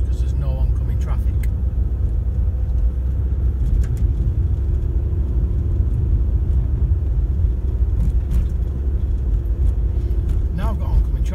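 A car drives at around 20 mph along a road on a driving test route in Clifton, giving a steady low engine and road rumble throughout, with a person talking over it.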